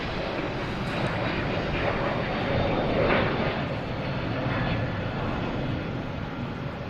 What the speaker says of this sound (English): We have a Delta taking off, an A321neo heading to San Diego.